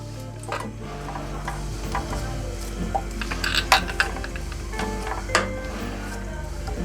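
Steady sizzling of chicken frying in oil in a pan, with scattered clicks and scraping of a utensil stirring, close and continuous.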